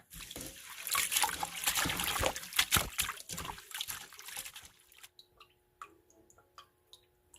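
Water trickles and dribbles while cat's ear greens are rinsed, a steady wet pour that drops to sparse, close drips near the end.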